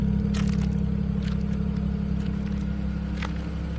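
A right-hand-drive BMW 335i with an N54 engine and newly installed downpipes idles with a steady, low, quiet exhaust rumble, broken by a few faint clicks and scrapes.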